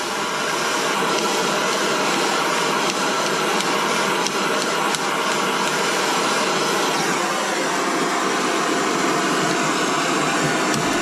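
A blowtorch roars steadily and loudly for the whole stretch, heating glued parts while a Super Typhon build is being dismantled, a continuous broadband hiss with no talk over it.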